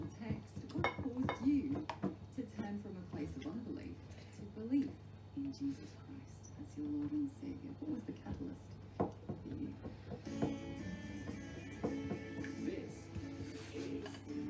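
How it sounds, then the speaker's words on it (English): Tomato puree and Italian herbs stirred together in a bowl, a utensil clinking and scraping against the dish in irregular bursts while a person talks over it. "So we put some tomato puree in it and some Italian herbs. Give it a good mix."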